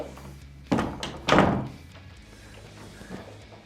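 An all-glass French door in a Tampa, Florida home swings shut, giving two solid thunks a half second apart, close to the microphone, followed by quiet room tone.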